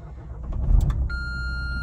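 A car's low fuel warning chime sounds inside the cabin as the tank reads empty: a steady electronic tone begins partway through over a low idling engine rumble, with no speech.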